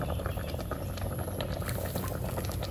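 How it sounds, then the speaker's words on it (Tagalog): A pot of milkfish soup with banana heart boils steadily, giving a close, continuous bubbling and gentle popping with no pauses and no voices. "hayaan na kumulo siya ng mga siguro 5 minuto hanggang sa tuluyan ng maluto yung ating bangus"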